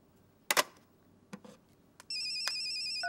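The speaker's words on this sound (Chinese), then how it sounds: "来电话了" A few faint clicks and knocks come first, then a telephone ringtone for an incoming call starts abruptly and rings steadily and electronically, fairly loud and close, with no talk over it.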